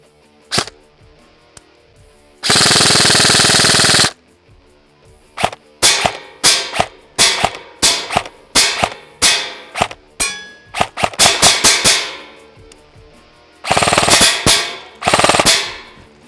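A Classic Army Nemesis airsoft replica fires 0.2 g BBs on an 11.1 V LiPo battery in a chrono test: loud, close shots in sharp single cracks and several short full-auto bursts separated by pauses.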